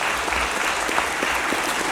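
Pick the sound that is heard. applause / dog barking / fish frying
applause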